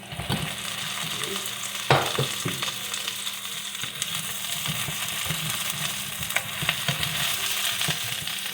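Chicken fries steadily in a pan, a dense, loud, continuous sizzle and crackle with occasional sharper pops and a clank of the pan, no talking.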